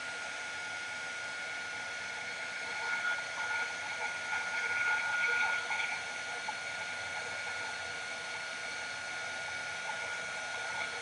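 A heat gun runs over a stamped craft project for heat setting, giving a faint, steady fan whir and airflow hiss that swells slightly in the middle, with small mechanical clicks, fairly distant and quiet, no speech.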